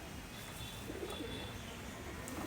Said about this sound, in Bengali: এই মালবাহী কবুতর